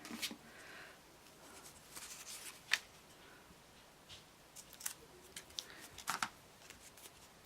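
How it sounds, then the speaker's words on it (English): Scissors trimming a small protruding paper edge on a folded file folder mini album page: a few soft, quiet snips and paper rustles spread over several seconds, with sharper cuts near the middle and end. "there's a little piece that's sticking out, so we have to trim that off a little bit"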